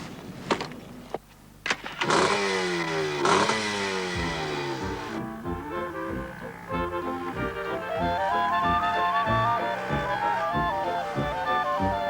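Several motorcycles start up and rev hard nearby, then ride off with rising and falling engine pitch as they change gears, loud and continuous throughout.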